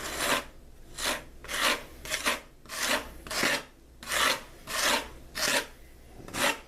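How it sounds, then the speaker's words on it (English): A pre-mixed concrete patch is hand-sanded, giving nine rhythmic, evenly spaced rasping strokes about one per second, close and clear with no voices. "we're going to go back and sand it"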